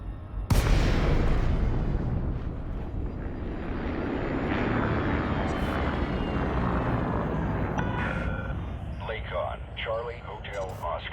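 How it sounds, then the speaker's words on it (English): Spaceship disengaging Super Cruise in Elite Dangerous, a sudden loud whooshing rumble that swells and slowly settles into a steady engine roar, with a synthetic voice announcement near the end. "Disengage. Disengaging Super Cruise."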